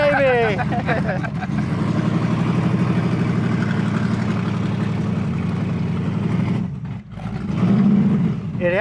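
A classic Chevrolet Camaro with a three-speed shifter pulls away, its engine droning loudly and climbing in pitch before a brief dip and a fresh rise as it shifts gears, close by.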